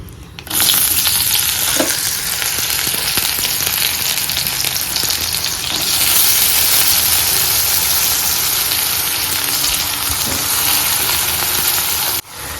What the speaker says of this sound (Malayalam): എണ്ണയൊന്ന് ചൂടാകുമ്പോൾ നമുക്കിതിലേക്ക് കഴുകി വെച്ചിരിക്കുന്ന നമ്മുടെ ആ ഒരു ചക്കക്കുരു ഉണ്ടല്ലോ, അത് നമുക്ക് ഇട്ട് കൊടുക്കാം